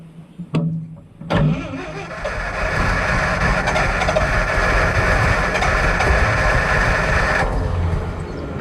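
Lull forklift engine with raw fuel poured down the carburetor: a couple of sharp knocks, then the engine catches and roars steadily and loudly for several seconds before the sound shifts near the end.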